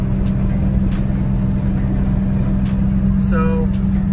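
A Nissan 350Z driving over a bumpy road, a steady loud cabin rumble with engine drone and occasional knocks, with a short voice sounding near the end.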